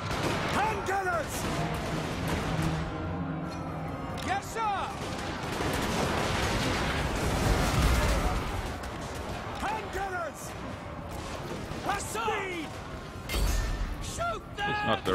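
Volleys of hand cannon gunfire crack and boom repeatedly over battle noise in the video game Warhammer Online, while voices shout commands throughout.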